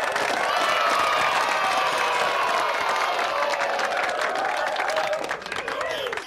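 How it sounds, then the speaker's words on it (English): A live show's studio audience cheers and applauds loudly and continuously, with whoops and shouted voices riding over dense clapping. The roar eases slightly toward the end. "cheer from the audience."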